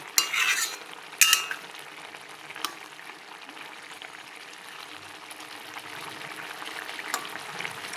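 A pea and potato pakora mixture cooking in a pan: a few sharp scraping stirs at the start, then a low, steady bubbling simmer with occasional small clicks, heard close with no voices.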